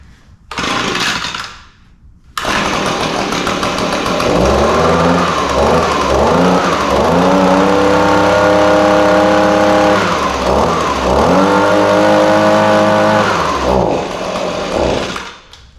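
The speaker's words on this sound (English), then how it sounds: "We're gonna pull this through a few times and see if we can get it to start." Echo leaf blower pull-started: a loud two-stroke engine catches after a short pull burst, then runs steadily for over ten seconds with rising and falling revs, alone and close.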